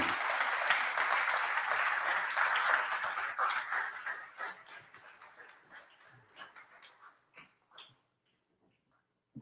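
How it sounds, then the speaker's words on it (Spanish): An audience at a science café event applauds musicians as they are introduced, with loud sustained clapping that gradually thins into scattered claps before fading out. "Recibámoslos con un fuerte aplauso."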